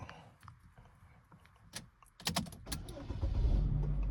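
A car being started while its door locks engage: a sharp mechanical clunk and clicks, then the engine catches and settles into a steady low rumble inside the cabin.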